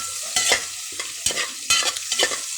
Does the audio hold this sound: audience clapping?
no